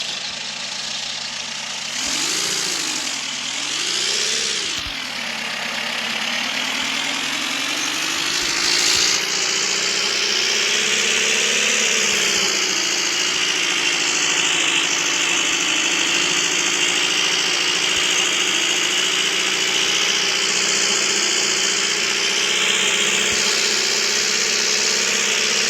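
A pickup truck engine in a video game cranks with a couple of rising revs, then settles into a steady, loud running drone that holds unbroken to the end.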